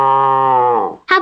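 A cartoon beagle voice imitates a cow with one long, close, tonal moo that drops in pitch, followed by a short second vocal burst.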